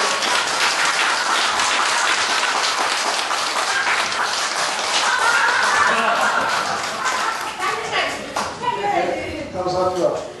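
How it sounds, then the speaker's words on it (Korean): A lecture audience gives a guest speaker sustained, full applause for about ten seconds, with a few chuckles mixed in. The clapping thins toward the end as voices come through. "우리 강사님께 박수 한번 크게 주시죠."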